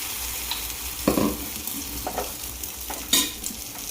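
An egg kebab mixture hitting a hot oiled pan: a constant close sizzle with a couple of sharper bursts and a spatula scrape, with no one speaking.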